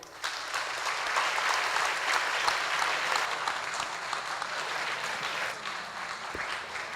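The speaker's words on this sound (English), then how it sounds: "Can everybody please clap for them?" Sustained audience applause at a school debate competition, a dense steady clapping from a crowd that holds for several seconds before tapering slightly, with no talk over it.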